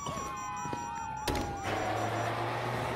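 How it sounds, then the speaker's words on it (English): A police siren in the Grand Theft Auto V video game sweeps steadily through the whole stretch, with a sharp thump partway through and a low steady drone entering near the end. "you hear that? Sirens."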